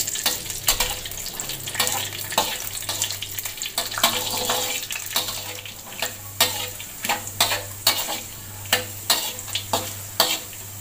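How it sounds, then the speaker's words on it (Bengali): Cashews and raisins fry and are stirred in a pan for a Kanika rice offering, giving a close, steady sizzle broken by repeated scraping strokes of the spoon, with no talking. "কাজু আর কিশমিশটা দিয়ে আমি একটু ভালো করে ভেজে নেব।"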